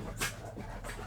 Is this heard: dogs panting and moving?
yes